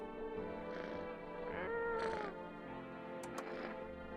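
A cat meows several times close by, with drawn-out, wavering, whiny calls rising and falling over a low steady hum, plus a couple of short high clicks near the end.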